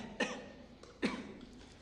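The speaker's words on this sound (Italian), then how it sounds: "È una settimana che c'è questa tosse maligna." Two sharp coughs, about a second apart, close by and fairly loud against a quiet room background.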